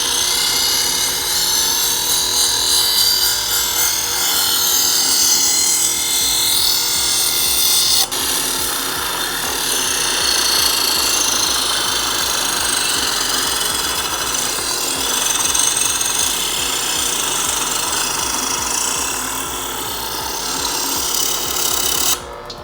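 A Vevor electric knife sharpener grinds a knife blade through its fine slot. The motor whines steadily and loud and close, with a rasping grind that shifts as the blade is drawn through, and no talk.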